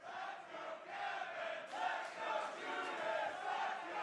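Crowd at a fighting event, a dense, steady murmur of many voices with swelling cheers and shouts rising and falling throughout, fairly close and continuous.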